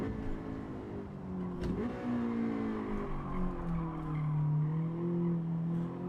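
A race car in a racing game time trial is held in third gear, its engine droning and rising in pitch at half to full throttle, with a brief tire squeal.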